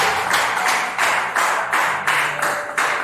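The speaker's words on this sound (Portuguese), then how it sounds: "Quem pode dar uma salva de palmas para Jesus?" A church congregation claps in steady rhythmic bursts, about eight even beats, loud and close, with no talking.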